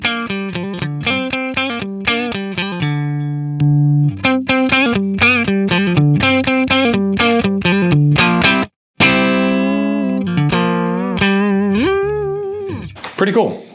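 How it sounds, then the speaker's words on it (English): An electric guitar plays a run of picked notes and sustained chords through a Donner mini pedal used as a clean boost with gain at minimum, clean and bright with a slight edge, briefly cutting out midway. "it could also be used as a clean boost, so if you turn the gain all the way down"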